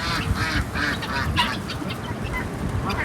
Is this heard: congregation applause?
no